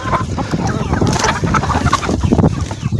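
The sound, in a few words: chickens eating fresh grass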